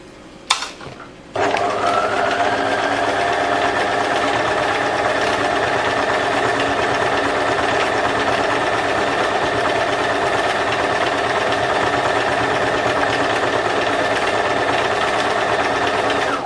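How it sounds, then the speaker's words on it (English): A sewing machine stitches lace and fabric, starting after a couple of clicks and then running in a steady, close, continuous mechanical whir with rapid needle chatter throughout. "so I'll continue stitching"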